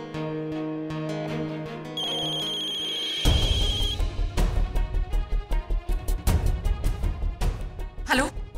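A telephone rings with an electronic ringtone melody and high chiming tones, then rhythmic music with a steady beat takes over.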